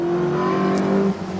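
A BMW M3 Group A race car waits at the start of the Dunières hill climb with its engine holding a loud, steady high drone, then eases off briefly near the end.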